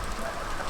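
Rain falling outdoors as a steady, dense hiss of drops, even in level and continuous through a very short stretch with no voices.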